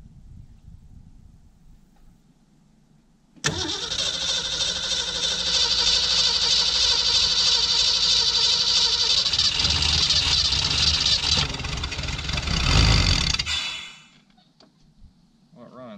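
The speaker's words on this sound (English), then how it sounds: "Alright, you want to crank it over?" A 1966 Ford Mustang engine, running flooded, catches abruptly and roars into a loud, steady run close by, swells near the end, then cuts off and leaves quiet background.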